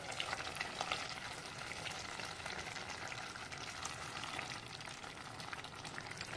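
Marinated mutton, releasing its own water, hisses and sizzles steadily in a hot pan, a dense, continuous frying wash with faint stirring scrapes, close and moderately loud with no talk.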